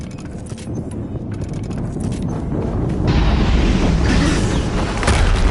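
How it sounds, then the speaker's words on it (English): Explosion in Horizon Zero Dawn, a loud rumbling boom that builds and rolls on with crackling debris, dense and continuous, without speech over it. "Another explosion."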